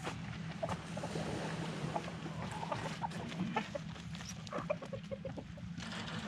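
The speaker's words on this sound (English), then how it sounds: "I'm gonna give our chicken the beets." A backyard chicken being fed beets clucks in short, soft, scattered bursts over a steady low hum near the water, with no talking.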